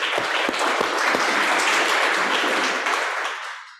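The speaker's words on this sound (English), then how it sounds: "Let's give them a round of applause." An audience at a talk gives a dense round of applause, steady and close, then fading out at the end with no talking over it.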